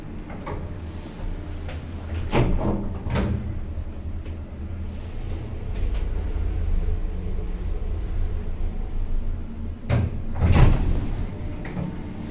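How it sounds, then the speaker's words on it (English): Doors of a pristine 1995 TMS lift slide open and close, a couple of thuds and rumbles rising over a low mechanical hum in an enclosed space, with no speech. "A nice door sound."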